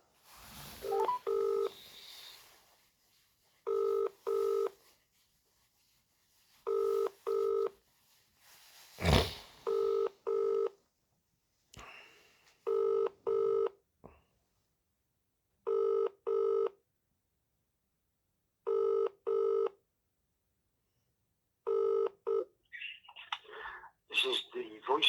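Touch-tone telephone dialing sounds while calling a city solicitor: short paired beeps in repeated bursts, spaced by silence, with a few brief clicks and rustles between them.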